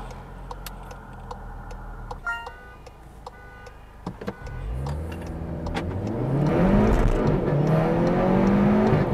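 A Seat Leon FR pulls away from a stop after some clicks and ticks, engine note building as it accelerates through gears, growing louder toward the end, heard from inside the car.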